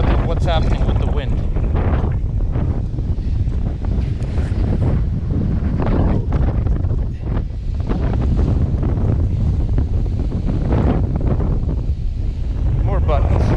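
Strong wind buffets the microphone on a beach at Barren Island near Dead Horse Bay, a steady, loud low rumble of gusts with faint surf beneath, continuous throughout.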